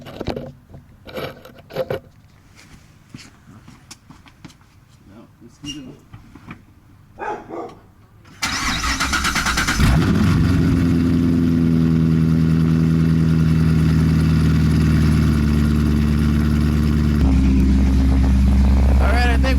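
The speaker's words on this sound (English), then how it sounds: "Let me go ahead and get the cold start for you." A C7 Corvette Stingray V8 cold-starts with a sudden loud roar, then holds a steady, loud, rumbling high idle that drops slightly in pitch near the end; voices and a dog's barks are heard faintly before it fires.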